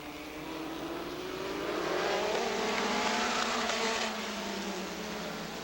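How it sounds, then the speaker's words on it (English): Stock cars racing around an oval at Rockford Speedway during the 1999 Joe Shear Classic, a dense roar of engines sweeping past with rising and falling pitch, loud and steady throughout. "Anderson with a move underneath the sputtering car of David Goff."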